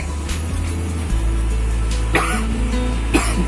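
A couple of coughs stand out over a steady low rumble like traffic or an engine, with no talking.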